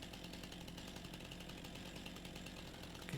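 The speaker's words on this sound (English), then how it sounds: "We need to get our chainsaw out." A chainsaw runs steadily while cutting a tree in Farming Simulator 25, a dense continuous buzzing drone at low volume throughout.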